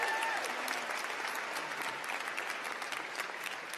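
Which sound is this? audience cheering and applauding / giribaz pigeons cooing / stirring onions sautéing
audience cheering and applauding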